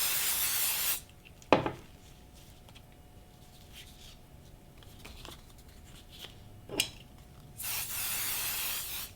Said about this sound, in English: I'm gonna take the 505 tacky spray and I'm just gonna lightly douse her like that